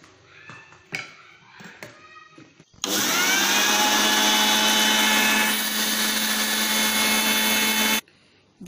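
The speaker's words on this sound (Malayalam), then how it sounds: "പഞ്ചസാര പൊടിക്കാനായിട്ടുണ്ട്" A mixer grinder powders two tablespoons of sugar, starting abruptly into a loud, steady high-pitched whirring roar that runs about five seconds and then cuts off, after a few quiet clatters.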